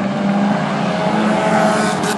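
Mighty Axe Hornet stock cars race on the North Central Speedway track, a loud continuous roar of engines streaming past under steady crowd and track noise.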